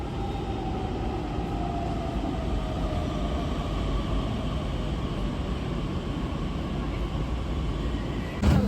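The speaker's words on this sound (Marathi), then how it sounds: "आता मी वेट करत आहे नेक्स्ट मेट्रोचा." A Pune metro train pulls into the station with a steady, loud rolling rumble and a high whine that slowly falls as it brakes, with no talking.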